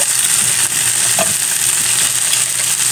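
Already-fried chicken pieces sautéing in a pan, a steady close sizzle with stirring scrapes throughout, no voices.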